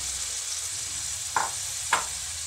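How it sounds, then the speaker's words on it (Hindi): Marinated chicken sizzles steadily in hot oil with a constant bright hiss, broken twice by short clinks of a utensil stirring the pan. "ऑयल गर्म हो चुका है, इसके अंदर हमने मैरिनेट किया हुआ चिकन ऐड कर दिया है"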